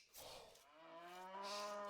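Cattle mooing in a real-time strategy game match, a drawn-out bovine low with rising, wavering tone lasting nearly two seconds, clear and alone without talk.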